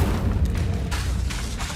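Incendio fire spell cast in Hogwarts Legacy, heard as a series of rumbling booms with bright bursts of crackle over steady low game noise.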